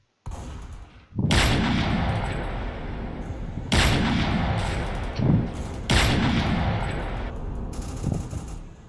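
Bursts of rapid gunfire in the Roblox shooter game, three long sustained volleys with short gaps between them, loud and close, no talking over them.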